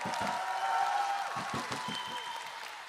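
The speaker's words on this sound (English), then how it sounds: "Round of applause for our wonderful, fantastic host, Justin Tang and Rebecca." A continuous wash of audience applause for the hosts of the 10th annual Chin TV Awards, steady and fairly loud for the whole stretch, with individual claps poking through.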